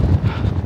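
Strong wind on a mountain summit above Bodø, Norway, buffeting the microphone in a loud, low, blustery roar for under a second.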